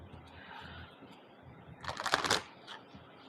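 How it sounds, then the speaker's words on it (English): A deck of tarot cards being shuffled close by, a quick burst of riffling and flicking cards after a quiet stretch of soft handling noise, with no talk during it. "All right, let's shuffle. Splitting the deck"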